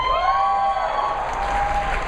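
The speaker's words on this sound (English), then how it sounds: "Why are you cheering Craig Ferguson?" Convention audience at a Comicon panel applauding and cheering, a dense continuous wash of clapping with a whistle-like tone gliding through it, loud and sustained throughout.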